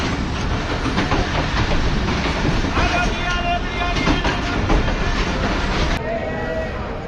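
Karachi Express passenger train running along the tracks, a steady loud rumble with rhythmic clickety-clack and rattling carriage noise, heard from inside a coach, with faint wind buffeting throughout.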